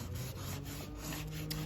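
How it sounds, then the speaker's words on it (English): A crayon rubbed on its side over paper laid on a leaf makes a close, continuous scratchy scraping with rhythmic strokes, alone and without talk. "I just take the crayon, set it lightly on its side, and go ahead and start rubbing."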